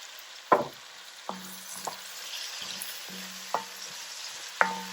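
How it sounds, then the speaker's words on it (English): Whole spices (bay leaves, cumin, cardamom, garlic) roast in hot oil in a pot for lamb stew, giving a faint steady sizzle broken by several sharp knocks and scrapes of stirring. "Let them roast for about a minute so the spices get the flavor."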